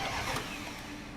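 A rebuilt, previously wrecked Audi RS6 engine catching and running, a short burst of mid-pitched engine roar that settles into a steady idle, close and moderately loud.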